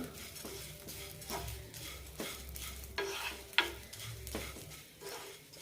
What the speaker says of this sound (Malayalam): മീഡിയം ടു ലോ ഫ്ലെയിമിലിട്ട് വറുത്തെടുത്താൽ മതി ഇല്ലെങ്കിൽ പെട്ടെന്ന് കരിഞ്ഞു പോകും